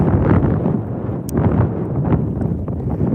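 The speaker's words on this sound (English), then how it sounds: "Can you guys hear the wind?" Wind gusts buffet the microphone out on a lake on a bass fishing trip, a loud, uneven low rumble that swells and eases throughout, with no speech.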